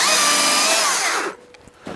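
A loud, high-pitched motor whine of a Stihl MSA 220 C battery chainsaw cutting a tree cuts steadily, then drops off abruptly, leaving a quieter pause before a brief rustle returns.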